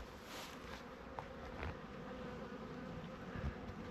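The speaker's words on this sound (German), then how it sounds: "wenn man hier schaut, da jetzt überall so Bienen" Bees buzz steadily near a rapeseed field in a soft, continuous hum, with a few droning slightly closer now and then against a quiet outdoor background.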